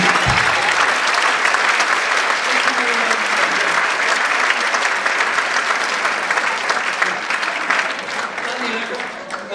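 An audience at a concert applauds conductor Richard in a dense, sustained wave of clapping that stays loud and even from start to finish.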